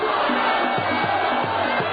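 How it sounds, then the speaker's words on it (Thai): Dense crowd cheering at a Muay Thai boxing match, a loud continuous roar of many voices with rhythmic chanting swells throughout. "ฟังเสียงกองเชียร์นะครับ"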